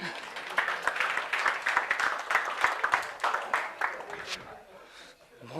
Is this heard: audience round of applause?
yes